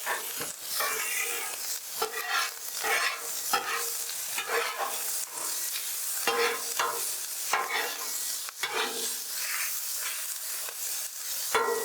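Pork sausage sizzles in oil on a Blackstone flattop griddle, a close, crackling fry broken up by repeated scrapes and pushes of a spatula across the steel, uneven in rhythm and with no talking.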